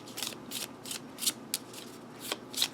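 A mini 1889 Lenormand oracle card deck is shuffled close up in about seven quick, crisp riffling bursts with short pauses between, and no one speaks.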